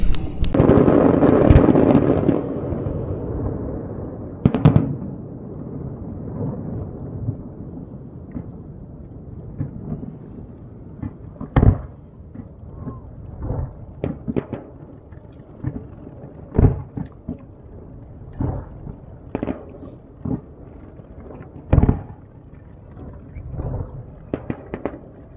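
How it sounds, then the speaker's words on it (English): Night fireworks over Plymouth Sound from the shore, distant booms and cracks arriving irregularly, a burst of louder bangs at first followed by scattered thumps and pops separated by quieter gaps. "we're going to go and watch the fireworks"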